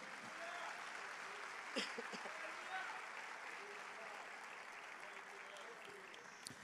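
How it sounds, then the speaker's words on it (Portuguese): Congregation applauding in a church, a steady wash of clapping that sounds fairly distant and quiet, continuing through the whole stretch with a couple of brief louder knocks. "Vamos aplaudir ao Senhor, queridos."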